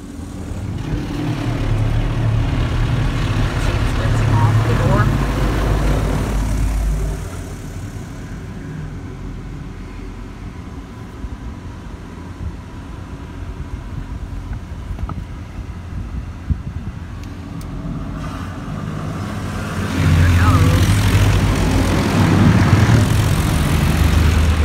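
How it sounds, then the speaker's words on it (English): Laserwash G5 touchless car wash at a Chevron gas station running its high pressure rinse, a loud roaring hiss of spraying water that surges, eases for a stretch, then swells again, heard from inside the car. "here goes the high pressure rinse."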